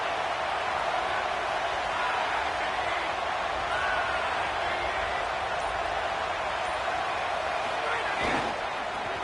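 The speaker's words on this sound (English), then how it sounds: "This crowd trying to make life miserable for this offense." A packed stadium crowd roars in a steady, dense wash at a Texas Tech versus Florida college football game, loud and continuous throughout, trying to rattle the offense, with no distinct breaks.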